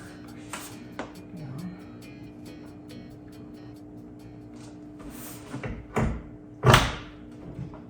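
Work on a McLaren 720S car door: faint clicks and handling noises for several seconds, then a couple of firmer knocks and a loud closing thud near the end, with no one speaking.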